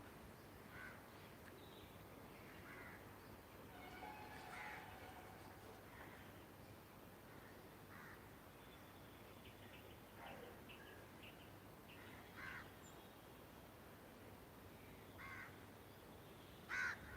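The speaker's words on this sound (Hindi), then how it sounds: "सुनिए पक्षियों की मधुर आवाज़।" Crows caw repeatedly outdoors in the morning, scattered calls at irregular intervals, mostly faint and distant with one or two slightly nearer, over a quiet steady background with other small birds chirping.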